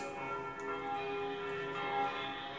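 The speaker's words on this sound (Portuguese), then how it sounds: "se você da sua casa escuta o sino tocando" A church bell rings with sustained, overlapping resonant tones that hang steadily in the air, fairly faint and heard alone without any voices.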